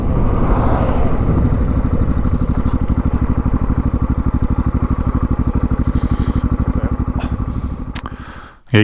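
A Yamaha XT660Z Tenere motorcycle rides steadily along on a cold, sunny day, its single-cylinder engine thumping in a dense, even pulse that stays loud and close for most of the run before briefly dropping away near the end.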